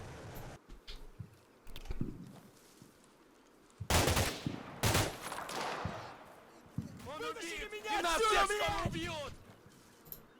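Gunfire in the Combat Mission: Cold War video game: scattered shots, then two loud, sharp cracks close together, followed by sporadic firing while a voice talks over the battle noise.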